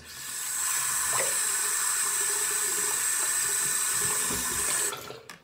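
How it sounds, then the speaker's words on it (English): Water runs steadily from a bathroom sink faucet during a face rinse, a loud continuous hiss and splash that holds evenly for several seconds before cutting off abruptly near the end. "So I'm just gonna rinse my face too."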